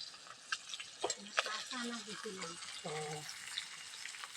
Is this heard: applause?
no